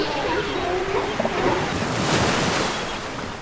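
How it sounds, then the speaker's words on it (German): Ocean waves breaking steadily on a rocky beach along a South African coast, a continuous broadband wash of surf with rising and falling swells, close and loud, with some wind noise on the microphone. "Die Wellen schlugen noch stetig, doch der Wind hatte sich gelegt"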